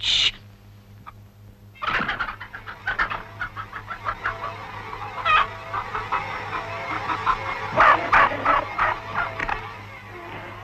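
Hens clucking in a farmyard, a string of short, busy clucks and squawks repeating close by at moderate volume, rising in intensity toward the end with no voices over them.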